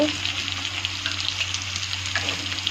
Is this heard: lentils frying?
yes